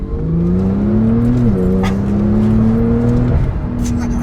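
A Porsche 911 Turbo S accelerates hard in second gear, its engine note rising steadily and loud from inside the cabin, with a brief dip near the end as the pitch climbs again.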